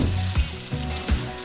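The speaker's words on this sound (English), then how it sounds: "Let's pull up there and cook some fish." Panfish fillets caught on the South River fry in a hot pan, giving a steady close sizzle with short bursts of crackling and bubbling. No voices are heard over the cooking.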